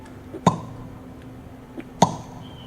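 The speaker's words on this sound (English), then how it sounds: "smack your cheek at the same time as you make the P sound" Two sharp, close mouth pops made by smacking the cheek while voicing a P sound, each a crisp percussive burst separated by about a second and a half of near silence.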